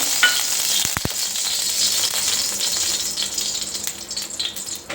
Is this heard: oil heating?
yes